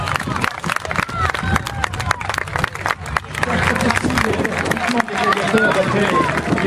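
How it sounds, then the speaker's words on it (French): A crowd applauds Astianax at a gladiator reenactment event in Saint-Romain-en-Gal, with dense, busy clapping, crowd chatter and voices that swell and grow fuller toward the end. "On applaudit bien pour Astianax."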